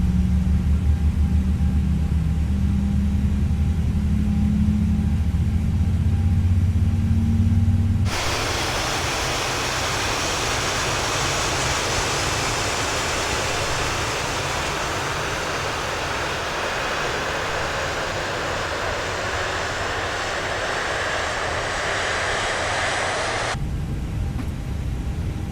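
An Airbus A320 jet engine spins up in Microsoft Flight Simulator 2020: a low rumble gives way abruptly to a loud, steady broadband roar and hiss that holds for about fifteen seconds, then drops back to a quieter drone.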